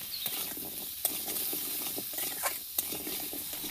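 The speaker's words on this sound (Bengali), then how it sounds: "ফুলকপি ভাজা হয়ে গেলেই সেই একই তেলে আলুগুলোও দিয়ে দেব।" Potatoes fry in the same oil left from the cauliflower, a continuous sizzle broken by sharp clicks of a spatula stirring against the pan, close and without talk.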